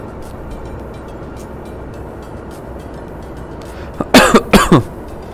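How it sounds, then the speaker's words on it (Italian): A burst of about four harsh coughs comes near the end, loud and close, over a steady low background hum of a truck cab in Euro Truck Simulator 2. "Scusate per la tosse"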